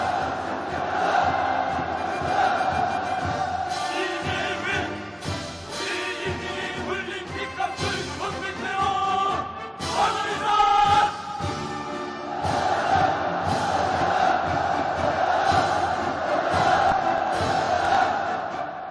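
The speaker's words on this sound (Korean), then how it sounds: "전체 참가자들의 끓어오르는 복수의 열기를 분출시키는 구호들과 원수 경멸의 함성이" A large political rally crowd roars and chants slogans in unison, massed voices rising and falling in loud waves over nearly twenty seconds, the shouting swelling again after brief lulls.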